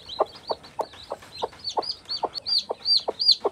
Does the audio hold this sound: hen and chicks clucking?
yes